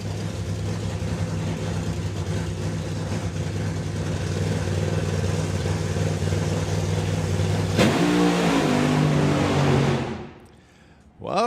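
A Ford Mustang drag car launches hard down the strip at a nostalgia drag racing event, a loud, sustained engine roar that builds and surges with a burst of noise before cutting away near the end.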